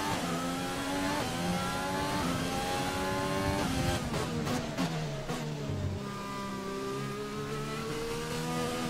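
Formula One race car on wet-weather tyres in the F1 2020 video game at the Singapore Grand Prix, engine steadily loud and revving up and down through gear changes, with a brief dip in pitch around a corner.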